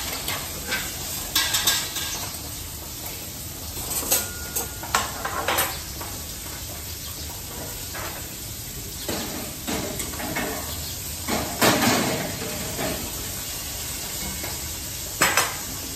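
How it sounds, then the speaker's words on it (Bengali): Pieces of fish frying in a pan, a continuous sizzle with intermittent scraping and clinks of a utensil stirring against the pan, close and fairly loud. "মাছগুলো ভেজে নিই।"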